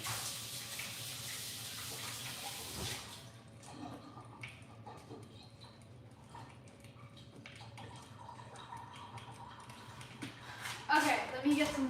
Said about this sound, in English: I'm gonna wash my hands off